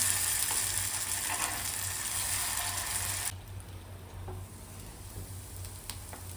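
Pohe kachoris sizzle steadily as they deep-fry in hot oil, occasionally turned, with a dense bubbling hiss that drops noticeably quieter partway through, continuing as a softer, even crackle with no voices.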